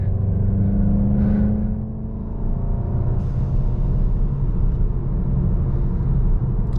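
A used manual MK7 Volkswagen GTI or F56 Mini JCW pulls hard at full throttle, a loud, steady engine drone with a rising tone under a low road rumble, heard from inside the car.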